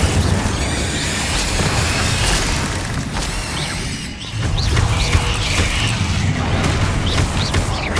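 Fiery spell blasts in Hogwarts Legacy, the Incendio fire charm cast during combat against spiders, making dense continuous roaring bursts and booms with a brief lull midway, loud and close throughout.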